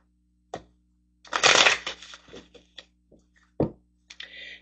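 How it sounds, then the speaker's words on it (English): Tarot cards are shuffled and drawn close by, with a dense burst of riffling and rustling followed by scattered short flicks and slaps of cards on a surface. "Getting a couple tarot cards over here."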